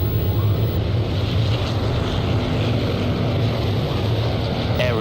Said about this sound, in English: Aeroplanes.